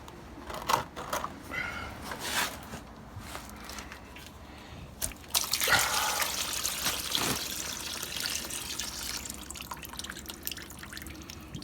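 Coolant drains from a removed radiator hose on a 2008 Suzuki GSX-R motorcycle, first as scattered drips, then as a steady close trickle and splash that keeps running to the end.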